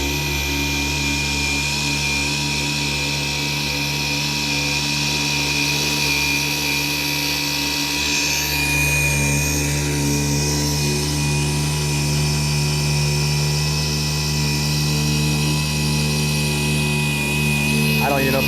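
A Ryobi 18V dual action polisher runs with a steady loud motor whine and droning hum throughout, while someone talks over it.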